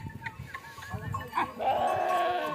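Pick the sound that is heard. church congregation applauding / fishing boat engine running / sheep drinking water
sheep drinking water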